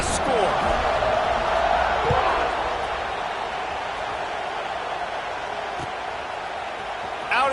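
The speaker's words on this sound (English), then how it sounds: "this crowd is buzzing after that last score" Stadium crowd noise rumbles steadily in an NCAA college football video game after a score, with a broad continuous roar under commentary and a few brief thumps.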